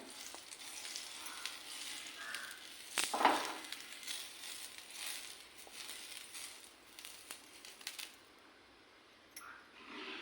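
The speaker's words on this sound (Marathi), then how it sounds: "बघा, आपला ढोश्याचा तवा आता चांगला तापलाय। त्याला आपण तेल लावून घेऊया।" Oil sizzles on a hot iron dosa pan as it is spread across the surface, a soft steady hiss broken by a few sharper crackles and a louder burst near the middle, heard close with no talking.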